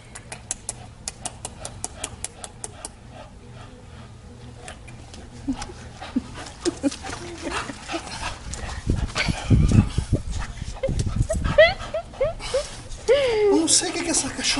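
A Campeiro Bulldog pants and whimpers with soft whines and snuffles, while a person talks nearby and some light tapping clicks sound at the start.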